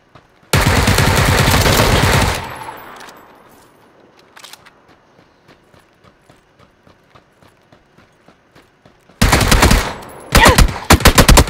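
PUBG gunfire comes as a long, loud burst of automatic fire. Faint, evenly spaced single shots follow, then more close, heavy bursts of rapid fire at the end.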